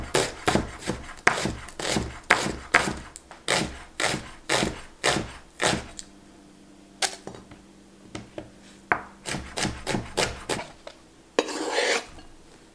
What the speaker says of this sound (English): I got one shallot that I'm very thinly slicing.